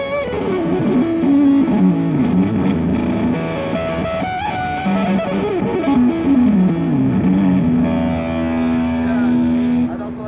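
Electric guitar played through a Dunlop Fuzz Face fuzz pedal, giving a thick, buzzy, saturated tone as a continuous run of bending, sliding lead notes that settles onto a sustained held note near the end, loud and close.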